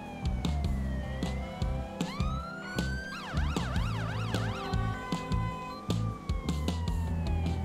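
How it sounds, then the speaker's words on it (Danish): Police car siren from GTA V with the LSPDFR mod, sounding loud and close as a rising wail that switches into a rapid warbling yelp and then back, over engine rumble and traffic noise. "Derfor tænder vi de blå udrykningsblink og signaler,"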